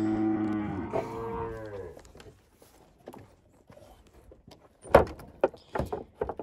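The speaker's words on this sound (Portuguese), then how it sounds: "agora nós vamos colocar o gado para entrar para dentro da seringa lá" Cattle moo loudly in a corral while being moved into a chute for vaccination. One long, drawn-out moo opens the sound, followed by quieter shuffling and a few sharp thuds and knocks from gates or the chute.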